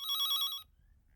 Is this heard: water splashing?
no